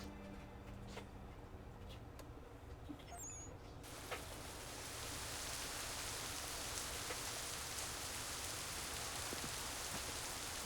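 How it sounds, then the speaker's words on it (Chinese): Steady rain falling in the video game Assassin's Creed III Remastered, a dense even hiss that swells louder and fuller about four seconds in and keeps pouring without a break to the end. "哦，下雨，"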